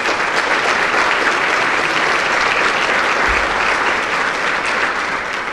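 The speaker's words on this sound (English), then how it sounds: "Please give her a round of applause." Steady, loud applause from an audience at a volunteer appreciation breakfast, continuous clapping filling the room for several seconds without speech.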